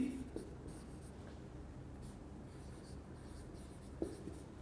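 Pen or marker scratching steadily during an online chemistry lecture, faint and continuous with a few small taps, no talk over it.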